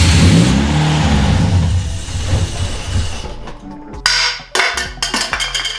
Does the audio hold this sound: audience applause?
no